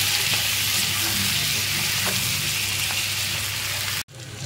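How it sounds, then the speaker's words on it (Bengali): Fish fries with turmeric and salt in a pan, giving a steady, close sizzle that cuts off abruptly near the end before resuming more faintly. "তো এখন একটু হলুদ আর একটু নুন দিয়ে একটু ভাজা ভাজা করে নেব।"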